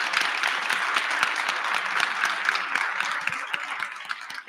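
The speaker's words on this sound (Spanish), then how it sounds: "creo que lo que merecen es un cálido aplauso" A seated audience at a human rights master's forum in a mask museum gives warm applause, with many hands clapping densely and steadily, then thinning slightly toward the end.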